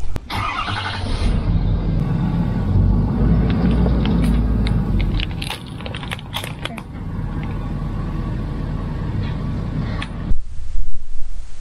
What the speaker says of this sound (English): we'll just get in the truck, pull forward onto those blocks